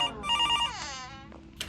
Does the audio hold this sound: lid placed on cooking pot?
no